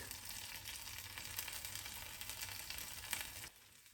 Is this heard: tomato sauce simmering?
yes